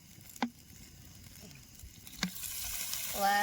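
Oil heating in a pan over a wood-fired stove, a soft steady sizzle that builds toward the end, broken by a couple of sharp knocks, with a brief voice near the close.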